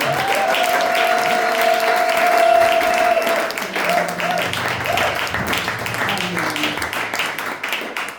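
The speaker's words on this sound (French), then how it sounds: "Est-ce qu'on peut acclamer pour la gloire de Dieu?" A church congregation applauds, a dense, loud wash of clapping that carries on steadily for several seconds with voices and a sustained tone mixed in before easing slightly toward the end.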